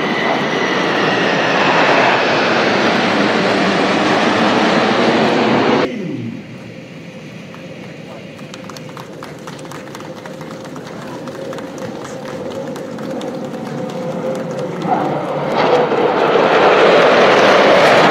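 Fixed-wing airplanes roaring overhead during an outdoor parade with a military drum band, loud engine noise that cuts off abruptly, then a quieter crowd murmur before another rising roar, with voices faintly present.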